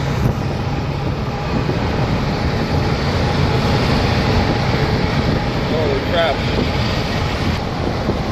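Loud, constant roaring road and wind noise from a fire-truck mini truck moving at full speed on a freeway, with a brief exclamation from a voice.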